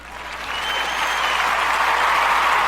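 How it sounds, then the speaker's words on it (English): An audience gives a guest on a talk show steady applause that swells slightly and holds at full strength, a dense wash of clapping with no one talking over it. "We just have to give you this applause"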